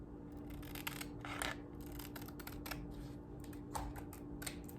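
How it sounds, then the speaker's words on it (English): Scissors snip along the edge of a sheet of paper in a craft project, a run of quick, close crisp cuts over a steady low background hum. "So then I'm just gonna trim off this little edge."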